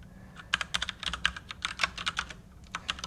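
Rapid keystrokes on a computer keyboard as a Unix shell command is typed, a close, busy patter of clicks with no talk.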